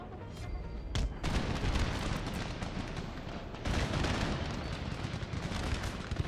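Dense, continuous musket volleys and rolling gunfire in the Empire: Total War battle game, with heavy booming layers and a few sharp bursts that stand out.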